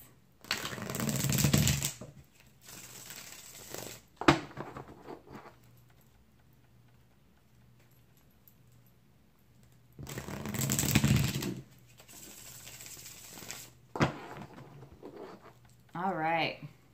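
Tarot cards are riffled and shuffled in a few quick bursts separated by quiet pauses, close by.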